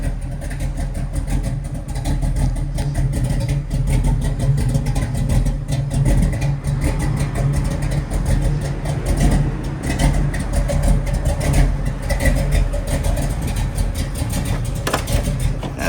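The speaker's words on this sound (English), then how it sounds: "She's got a nice little thump to that motor." A 1969 Camaro RS SS396 V8 engine idles steadily with a deep, rumbling low thump, close and continuous, with slight swells in revs throughout.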